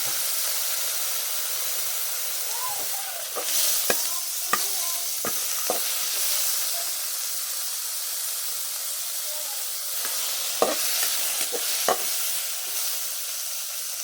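Shrimp sizzle and hiss loudly in a hot pan for sinigang, steady frying broken by sharp clinks and scrapes of stirring.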